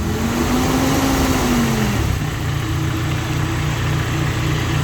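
A car engine runs loud and close, its pitch dipping as the revs drop, then settling into a steady rumbling idle.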